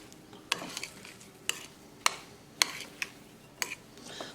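A spoon mixing spices into potato filling for tandoori aloo paratha, faint irregular clinks and taps of metal against a bowl with soft scraping between them, no voices.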